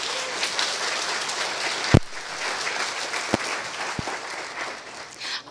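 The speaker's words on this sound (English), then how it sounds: "So can we give them all a round of applause?" An audience claps at an arts-week finale, a dense even patter of hands sustained throughout, with a couple of sharp louder claps standing out close by.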